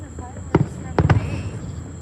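Fourth of July fireworks going off outdoors, with a few sharp, booming pops in quick succession as people talk nearby.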